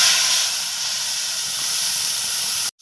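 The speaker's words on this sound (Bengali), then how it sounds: "এতে আদা, রসুন, পেঁয়াজ আর জিরা আছে, এটা আমি তেলের মধ্যে পেস্টটা দিয়ে দেবো।" A paste of ginger, garlic, onion and cumin hisses loudly as it hits hot oil, one continuous bright sizzle that cuts off abruptly near the end.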